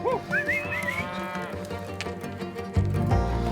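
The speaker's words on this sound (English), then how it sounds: "cattle can be unpredictable during loading" Cattle being loaded onto a truck in New Zealand moo loudly and close by, several drawn-out calls overlapping, followed by a heavier thump or rumble near the end.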